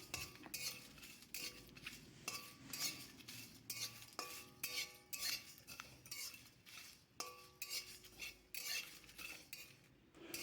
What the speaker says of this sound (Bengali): শুকনো কড়াইয়ের মধ্যে আমি এই ভাজা মশলাটা একটু